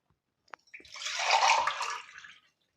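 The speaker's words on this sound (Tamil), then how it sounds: "சின்ன சொம்பில் ஒரு சொம்பு தண்ணி ஊற்றுறேன்." Water is poured from a small metal vessel into a cooking pot in a home kitchen, one short splashing pour of about a quarter litre preceded by a faint clink, close and clear.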